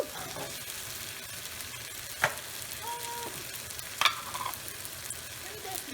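Head-on, tail-on shrimp, about a pound, frying in a pan, a steady soft sizzle with a few sharp crackles and pops, fairly quiet.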